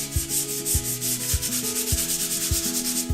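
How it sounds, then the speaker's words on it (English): Steady back-and-forth scratchy rubbing of sandpaper lightly sanding a drywall patch, close and even, repeating in a regular rhythm with no voices. "all you're going to do is just sand real lightly"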